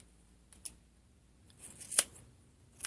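A few quiet, crisp snips of scissors cutting hair, spaced apart against near silence.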